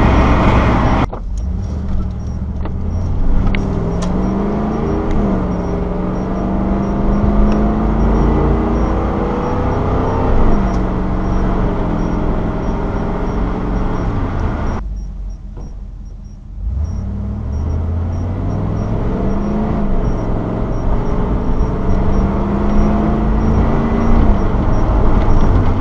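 A V8 Camaro or Firebird cruises along an old county road, its engine droning steadily with gear-change shifts in pitch and a brief dip partway through, continuous road rumble underneath.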